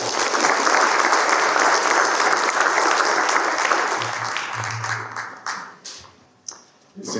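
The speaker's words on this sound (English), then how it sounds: "Please join me in giving Prof a round of applause" Audience applause for a guest speaker at a lecture on skills development and food security, a dense, loud wash of many hands clapping that thins and fades into scattered claps toward the end.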